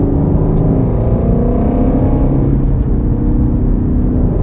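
A steady, loud engine drone with a low rumble, a Camaro 1LE sports car cruising under constant throttle, no talking over it.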